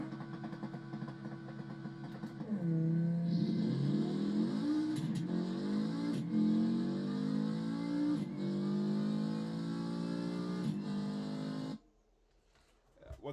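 Drag racing in BeamNG.drive against a Civetta Scintilla drag setup: a loud engine revs and climbs through several rising pitch sweeps for about ten seconds, then cuts off abruptly. A voice speaks underneath.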